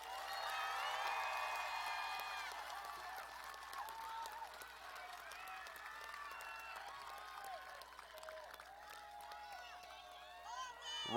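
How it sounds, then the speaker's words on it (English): A crowd applauds graduates at a high school graduation ceremony, with steady, moderately distant clapping that fades gradually, and a louder burst at the very end. "Please give these graduates a round of applause."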